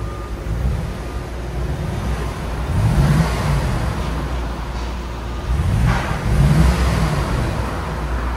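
A 1980 Mercedes 450SEL 4.5L V8 idles with a deep rumble and is revved twice, the pitch climbing and falling back each time, close and loud, on the stock exhaust.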